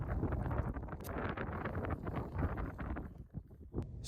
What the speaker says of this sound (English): it was really windy and cold